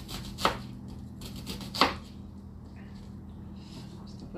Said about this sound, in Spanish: Trata de picarla un poquito gruesita, así como está esta.